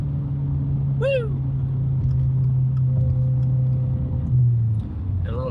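A 2022 Subaru WRX with a straight-pipe exhaust gives a steady, loud low rumble with a short rising rev swell, heard close up under excited voices and a brief shout.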